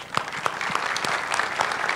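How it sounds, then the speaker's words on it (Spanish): Strong applause from the audience at the opening of a university academic units gathering, dense and steady clapping with a few sharper claps standing out. "Así es, fuerte el aplauso."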